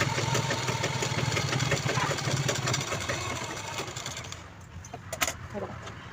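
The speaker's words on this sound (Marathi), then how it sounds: "आता आपल्याला इकडून पण दाब स्टिच देऊन द्यायची." A sewing machine stitches along a zipper on a homemade fabric pouch, giving a steady, close mechanical whir with a fast rhythmic buzz that runs for several seconds and then stops.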